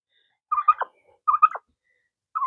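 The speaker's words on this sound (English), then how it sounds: "there's ducks pounding through the bush right now" Ducks on a farm give short, repeated honking calls in separate bursts, heard clearly against an otherwise quiet background.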